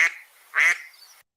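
Two cartoonish duck quacks from a soundboard, a short one followed by a longer, louder one, close and clear with nothing else around them.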